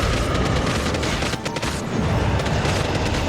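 Steady, dense barrage of firing at a dragon in Genshin Impact, continuous and loud throughout with rumbling booms, no pauses.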